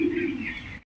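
Close pigeon cooing at a breeding farm in Bhawal Mirzapur: a single low, throaty coo lasting under a second, then silence.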